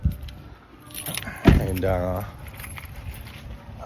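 A bunch of car keys is snatched up with a sharp close jingle and a brief rattle that fades, with a voice speaking briefly nearby.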